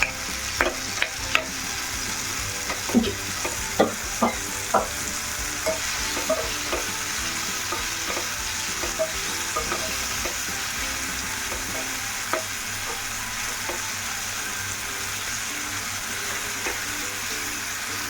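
Tomatoes for a dosakaya chutney fry in a pan with a steady broad sizzle, while a spoon or spatula scrapes and stirs in irregular clinks and knocks, busier early on and sparser later.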